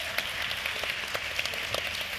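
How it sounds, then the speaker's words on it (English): Audience applause at an education conference, a steady even wash of clapping filling the whole moment without speech. "And now let's give them all a round of applause."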